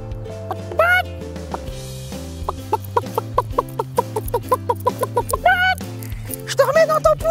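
Chicken clucking in a comedy magic-trick setting: a run of short, evenly spaced clucks and squawks over steady background music, with a voice briefly heard.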